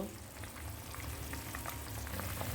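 Pieces of rohu fish fry in hot oil in a pan, giving a dense, continuous close sizzle that builds slightly, with no talking.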